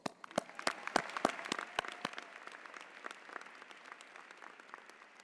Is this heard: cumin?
no